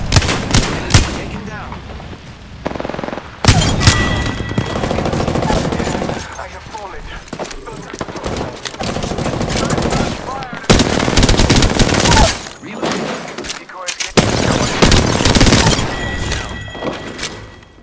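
Rapid automatic fire from an R301 rifle in a video game, loud close bursts in stuttering strings with short gaps, booming impacts mixed in, and voices talking over the shooting.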